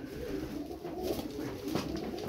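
Tumbler pigeons coo nearby in low, throaty, repeated calls, soft and rounded, over a quiet outdoor background.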